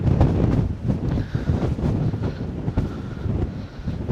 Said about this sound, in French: on va essayer de se protéger un peu du vent